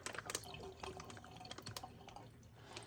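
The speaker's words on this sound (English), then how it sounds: "I'm just going to empty out that water." Water drains out of thawed tomatoes being made into slow-cooker ketchup, a faint trickle with small drips and light taps against the container.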